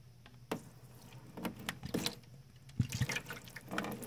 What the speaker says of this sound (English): Let's pour these out and see what it really looks like after the quick shake.